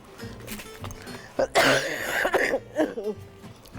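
A cluster of harsh coughs from a person with a cold breaks out mid-clip, followed by a few shorter coughs and throat sounds, fairly close and loud against quiet background noise.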